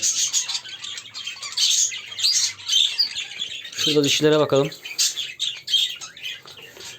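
Courting cage birds keep up busy, overlapping high chirps and squawks close by, with a voice speaking briefly in the middle of the calling.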